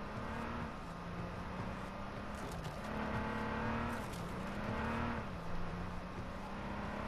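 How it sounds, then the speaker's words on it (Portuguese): A car drives in the H1Z1 Battle Royale video game, its engine humming steadily with gentle rises and dips in pitch as it moves along, moderately loud with no voices. "Ó, ele só tá de carro, galerinha."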